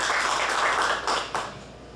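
A stand-up comedy crowd gives a short burst of applause with a few distinct louder claps near the end before it thins out and fades.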